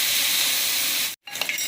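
Ginger garlic paste sautéing in a pan for Chettinad prawn gravy gives a steady, loud hiss that drops out for a moment near the end, then returns more unevenly.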